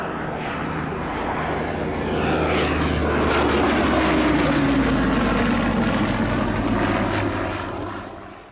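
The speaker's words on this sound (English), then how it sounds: "That honor belongs to a British aircraft from World War II, the Hawker Hurricane." Propeller engine of a Hawker Hurricane, a British WWII fighter, droning steadily and swelling louder as it passes, with a gliding pitch shift midway before fading at the end.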